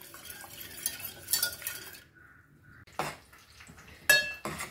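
Cooked toor dal, pressure-cooked for three or four whistles, is mashed in a metal pot, giving intermittent close clanks and scrapes of a utensil against the pot, separated by short quiet gaps.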